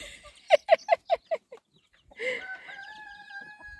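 Chickens and chicks on a farm give a quick run of five or six loud, evenly spaced clucks, then after a short pause a longer drawn-out crowing call, all close and with no talking.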